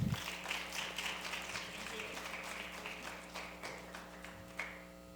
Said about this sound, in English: Let's give Gary a big round of applause